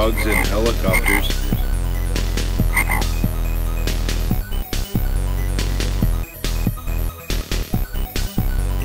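Loud, rhythmic croaking like a frog over a throbbing low pulse, continuous and close, growing choppier toward the end.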